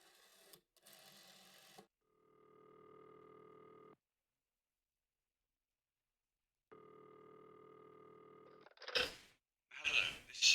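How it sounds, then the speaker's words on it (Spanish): Steady telephone dial tone in the game Martha is Dead, a flat hum sounding in two separate stretches with silence between them, followed by brief bursts of other noise near the end; no one speaks. "Teléfono."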